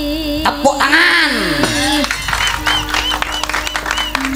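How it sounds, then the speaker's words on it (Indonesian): Applause and scattered clapping from an audience at a Javanese stage show, a short burst of claps mixed with sung and spoken voices and clinking over steady background sound. "Tepuk tangan."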